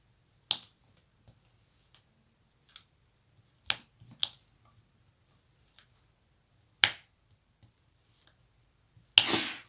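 Sparse, crisp little clicks and taps of diamond painting gems being placed, a few sharper ones spaced seconds apart, close up in an otherwise quiet room.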